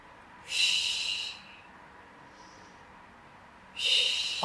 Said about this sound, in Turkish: Şimdi de burundan al.